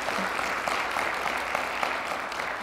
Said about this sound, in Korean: 이럴 때는 격려 박수도 한번 보내주시고